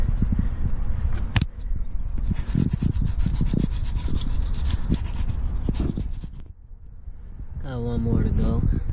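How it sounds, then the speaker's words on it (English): Sandpaper rubs an exhaust gasket surface on a 1994 Honda Civic in quick, close, gritty back-and-forth strokes, continuous for several seconds before fading, followed by someone speaking. "I got a little bit of sandpaper and this rag. Just going to make it a little bit cleaner."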